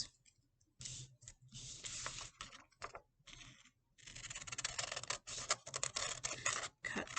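Scissors snip and rasp through paper cutting out a puppet body, in irregular bursts of close, quiet cutting and rustling separated by brief pauses.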